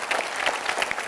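Brief burst of audience applause during an inspirational talk event, a short steady patter of many hands with no voices.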